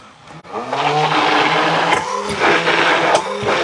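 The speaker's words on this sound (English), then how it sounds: "We're going to make it into a dressing using the immersion blender." An immersion blender whirs steadily as it mixes a dressing for a Mexican street corn pasta salad, loud and close, rising after a brief start and holding a continuous motor drone.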